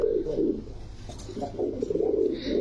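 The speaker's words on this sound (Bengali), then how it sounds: "অনেক বড় সাইজের কবুতর" Large pigeons coo in deep, throaty, rolling bursts close by, two long coos separated by a brief lull, with faint rustling around them.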